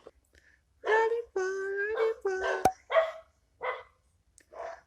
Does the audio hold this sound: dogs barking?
yes